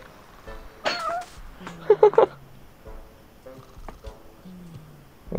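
Cat meows in the video game Lost in Play, a few short cartoonish mews and chirps scattered among light game sound effects, fairly close and clear, with no talking.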